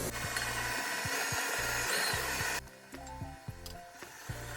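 An electric mixer beats marble cupcake batter on low speed, whirring with rhythmic knocking of the beaters against the bowl. Partway through, the whirr drops off sharply, leaving quieter clatter.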